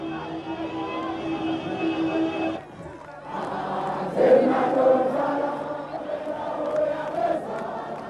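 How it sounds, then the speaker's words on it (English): A small crowd cheers outside a jail in 1990 as Nelson Mandela walks free, a steady roar of voices broken by a brief dip before swelling again, with faint shouts rising through the mass of sound. "cheered by the small crowd the police had allowed close to the jail"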